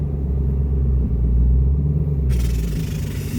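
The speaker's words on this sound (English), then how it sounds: "Oh my god, sir, your car's loud. It's a Redeye." Deep, steady rumble of a Dodge Charger Redeye engine idling or cruising close by at night, a continuous low growl with no talking.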